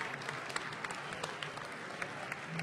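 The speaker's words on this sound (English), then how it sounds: "Let's give another round of applause." Applause from a banquet audience for a police sergeant who sings opera, a steady dense clatter of many hands throughout at moderate distance, with faint voices underneath.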